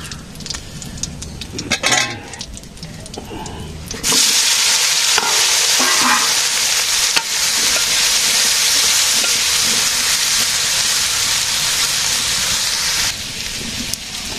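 Potatoes dropped into hot oil, bursting into a loud, steady frying hiss after a few scrapes and clatters, holding strong for several seconds before easing slightly, close up and without talk.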